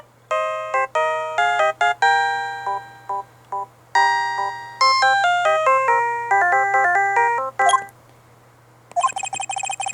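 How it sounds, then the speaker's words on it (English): A phone ringtone plays the Steel Samurai theme in the Ace Attorney video game, a bright chiming synth melody of rapid repeated notes that rings loudly and continuously, with no speech. "I know that song your phone plays when it rings."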